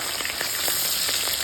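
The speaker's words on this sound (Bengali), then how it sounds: "মাছগুলো আমি একটা একটা করে তেলের মধ্যে দিয়ে দিতেছি।" Hilsa fish pieces frying in hot mustard oil make a continuous close sizzle with small popping spatters scattered throughout, heard alone.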